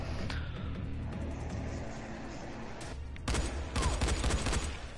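Gunfire in Dying Light during a co-op bunker mission on PS4: a low rumbling background, then a sudden burst of rapid automatic shots near the end, loud and close.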